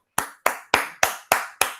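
Six sharp hand claps in a steady, evenly spaced rhythm, each crisp and close with a short decay, heard alone without talk.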